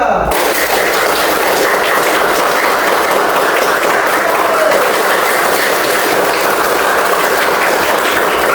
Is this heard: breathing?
no